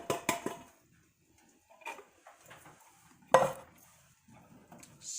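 Chili beans in mild sauce being stirred in a cooking pot, a few clattering utensil-on-pot scrapes and knocks at the start, then quieter intermittent stirring and shuffling with a sharp clank midway.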